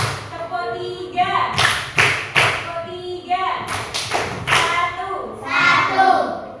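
Children in a fourth-grade class clap out a rhythm game, bursts of sharp hand claps and thuds mixed with young voices chanting the counts.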